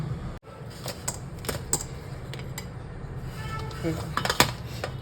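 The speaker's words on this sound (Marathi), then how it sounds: "त्यातच लसूण घालते मी आलं पण घाला पण माझ्याकडे आता आलं नाही आहे मी पेस्ट घालणार आहे थोडीसं आलं लसूण पेस्ट आहे ते घालणार आहे एकदा परत फिरवते" Garlic-ginger paste being stirred into masala in a pan produces repeated metallic spoon clinks and scrapes against the pan over a low, steady background hiss.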